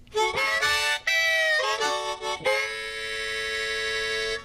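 Harmonica chords drawn in short, reedy bursts by inhaling through the harmonica, then a long sustained chord held near and loud.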